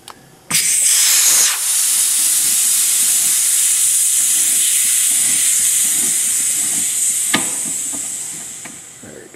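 Compressed air hisses loudly and steadily as it bleeds out of a shop air compressor, starting abruptly and holding an even rush for several seconds before tapering off, with a few faint clicks underneath.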